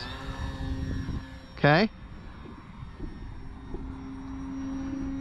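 FMS PA-18 Super Cub 1300mm RC airplane droning steadily in flight, a continuous moderate engine hum running through, with brief voice and a short loud whine near the middle.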